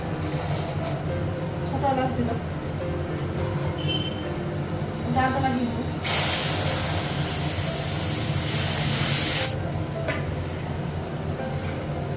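Five chilies dropped into hot oil in a home kitchen set off a loud, hissing sizzle that bursts up suddenly and lasts about three seconds, with someone talking before and after it.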